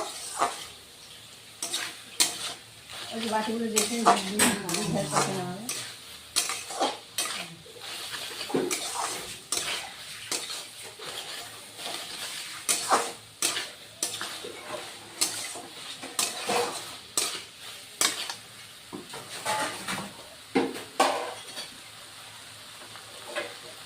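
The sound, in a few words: sautéing katla fish head with shola kochu in a pan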